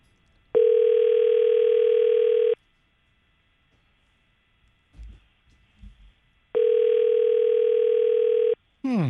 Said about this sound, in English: calling Ally Rae on her cell phone